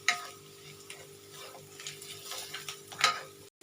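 Ginger fries in a pan for lasooni palak paneer, giving a soft continuous sizzle under faint stirring and small ticks of a utensil, fairly quiet and close, with no speech.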